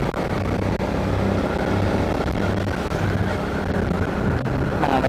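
A motorcycle engine drones steadily while riding uphill, mixed with constant wind rush against the microphone.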